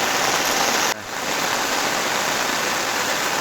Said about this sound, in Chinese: 山雨朦朧啊！